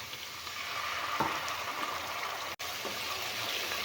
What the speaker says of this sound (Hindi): अब इसमें थोड़ा सा मैं पानी ऐड करूँगी